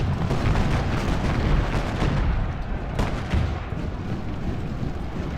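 Cannon and artillery fire in the Ultimate General Gettysburg video game, a dense continuous rumble of booms with a few sharper blasts standing out, loud throughout.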